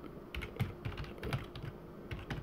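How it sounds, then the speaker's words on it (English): Computer keyboard typing at close range, a steady stream of light key clicks with small pauses, alone and without speech. "I'm typing something in."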